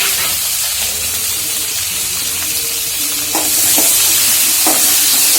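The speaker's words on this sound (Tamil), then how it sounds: "கருவேப்பிலை போட்டு பச்சை மிளகாய், வெங்காயம், பூண்டு, தக்காளி எல்லாத்தையும் போட்டு கிண்டணும்" Curry leaves, green chili, onion, garlic and tomato stirred and frying in a pan, a steady close sizzle and hiss that swells louder toward the end, with a few scraping stirs.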